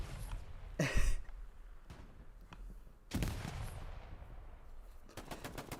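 Explosive impacts in the World War II game Hell Let Loose as artillery shells land on an outpost: a couple of heavy booming blasts spaced seconds apart, with rumbling aftermath and scattered gunfire in the background.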